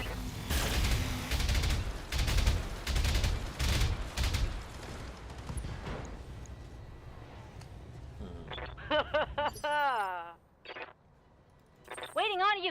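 Heavy weapons fire from an assault mech in a BattleTech video game: several loud booming volleys up close, then sparser mechanical bursts and warbling electronic tones, with speech heard in between.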